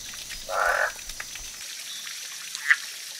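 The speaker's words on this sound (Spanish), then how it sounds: "Solo los machos de las ranas cantan," At night in a Costa Rican forest park, a male frog gives a single short, bright croaking call up close, followed by faint scattered drips and a soft distant chirp against a quiet background.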